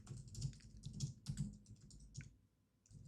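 Quiet, rapid typing on a computer keyboard, close by, in irregular bursts of clicks with a short pause near the end and no speech.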